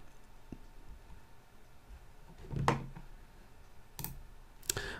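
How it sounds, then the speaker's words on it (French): Mouse clicks on a computer while creating a document from a template, heard as a few sharp, isolated clicks spread over a quiet room background with no talking. "Je clique sur Créer."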